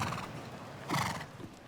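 Hooves of a show jumping horse clip-clop at an international event at the 2013 Encana Cup, a few soft footfalls over a busy arena background with one brief louder burst.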